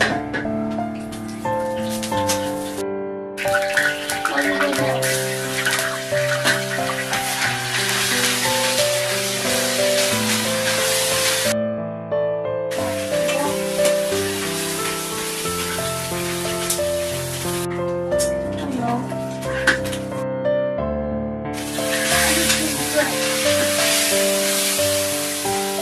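Oil sizzles in a wok as chilies fry, a crackling spray that comes and goes in bursts beneath continuous melodic background music.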